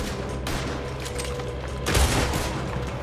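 Gunfire in a Red Dead Redemption 2 shootout, a dense continuous volley of shots with a heavier burst near the end, loud and close, with no talk.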